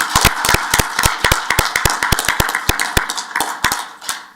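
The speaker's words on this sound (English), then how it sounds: "just a round of applause" Applause at a city council regular meeting, many hands clapping in a dense, lively burst with sharp individual claps standing out, fading slightly toward the end.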